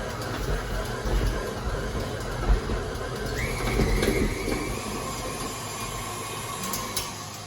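An electric mixer churns a thick peanut butter mixture for peanut butter and Oreo truffles, its motor giving a steady, loud, close drone with a brief rising whine partway through and no talking.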